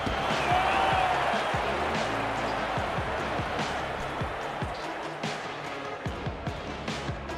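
A large rugby league stadium crowd roars and cheers steadily after a try between Brisbane Broncos and Hull KR, a broad dense wash of noise with scattered claps and thumps, under a commentator's voice.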